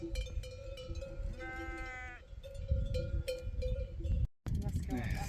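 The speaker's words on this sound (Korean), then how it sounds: "염소" Goats along the Camino de Santiago pilgrim route bleat in short wavering cries while their bells clink and ring steadily nearby, with a few brief gaps.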